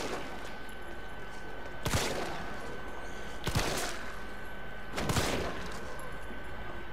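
Three evenly spaced gunshots in the Resident Evil 3 Remake video game, each a sharp loud crack with a short tail, over a low steady game ambience.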